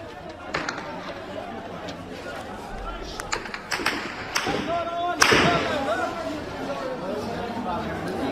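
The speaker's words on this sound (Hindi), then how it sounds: "गोलियों की आवाजें आप सीधे सीधे सुन सकते हैं।" Gunfire from Rangers at a street protest in Pakistan-administered Kashmir: several sharp, distant cracks at irregular intervals cut through constant crowd chatter and shouting.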